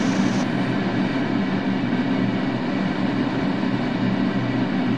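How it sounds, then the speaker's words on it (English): An R142 subway train runs in the OpenBVE train simulator game as a Manhattan-bound 2 train, producing a steady, dense rumble of wheels and motors that stays loud and unbroken throughout. "This is a Manhattan-bound 2 train."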